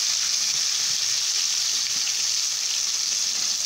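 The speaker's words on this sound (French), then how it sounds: "je vais faire cuire l'autre côté du poisson" Fish fries in hot oil with a steady, dense sizzle that holds at an even level throughout, with no voices.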